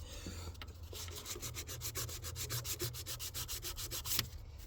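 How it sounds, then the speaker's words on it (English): Sandpaper rubs back and forth over a metal engine part on a 2012 Ram 3500 6.7 diesel during an EGR reinstall, a close rhythmic scratching of quick repeated strokes with no voices. "I run that sandpaper over that, and it felt smooth."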